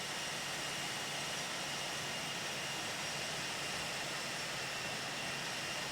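British Airways airliner jet engines at takeoff power, a dense, steady broadband roar with a faint whine on top, loud and unbroken with no voices.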